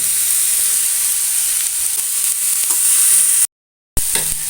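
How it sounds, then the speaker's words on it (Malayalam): Vegetables for a vegetable roll filling sizzle and hiss steadily in a hot pan as they are stirred and sautéed, a close, continuous frying sound broken by a brief silence near the end. "പിന്നെ നല്ലോണം അതൊന്ന് മിക്സ് ചെയ്തിട്ട് നല്ലോണം അതൊന്ന് വാട്ടിയെടുക്കാം"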